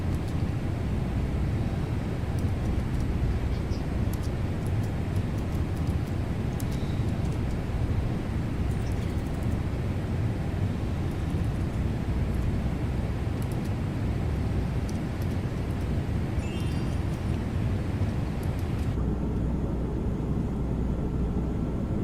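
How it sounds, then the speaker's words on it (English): A Boeing 777-200 in a flight simulator game makes a steady, loud, broadband engine and airflow roar that runs unbroken for over twenty seconds, with faint clicks scattered on top. "now you can hear the airplane a little bit better"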